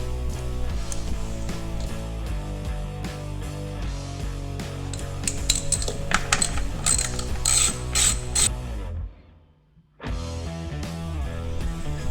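A hand ratchet cranks bolts tight during a stage 1 kit install on an Indian TS 111 motorcycle, a rapid continuous clicking close to the microphone that stops briefly near the end, then resumes.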